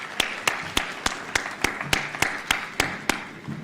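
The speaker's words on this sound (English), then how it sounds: "a big applause for your president and for the whole team" Audience applause and clapping for the president and his team at the WRC Safari Rally 2025 flag off ceremony, heard as a run of sharp, regular claps about every third of a second over a steady crowd wash.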